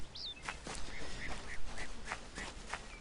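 A duck in the Kingdoms of Amalur video game quacks repeatedly, a string of short, evenly spaced, moderately loud calls over a faint, steady background.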